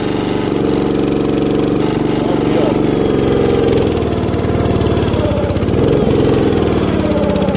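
Small engine on a 1960s Terra Mite minibike running steadily loud and close, revving up and down with a buzzy mid-pitched drone and uneven throttle swells throughout.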